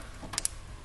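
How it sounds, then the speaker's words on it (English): A small plastic switch plug for a Chevy Duramax diesel truck module snaps into its connector with two quick, faint clicks close to the mic, against a quiet background. "Plug it in until you hear it click."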